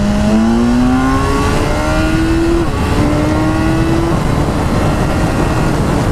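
A BMW S1000R motorcycle engine accelerates hard in a loud, close run of rising revs, each gear pulling the pitch upward before the next shift, steady and dense throughout.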